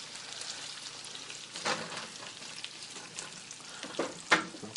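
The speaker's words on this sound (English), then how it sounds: "Get them a cooking in that bacon grease." Potatoes and onion fry in bacon grease in a pan, a close, steady crackling sizzle with a few louder pops and stirring scrapes.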